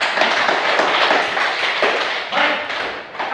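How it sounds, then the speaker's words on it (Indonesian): A school class applauds together in a chemistry lesson, giving dense, continuous, close clapping from many hands for a few seconds without pause. "kita tepuk tangan dulu untuk Anda semua"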